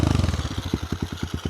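A cheap pit bike engine hammers against an adjustable rev limiter set to 6,000 RPM, cutting in and out in a rapid, steady stutter of close, loud pulses.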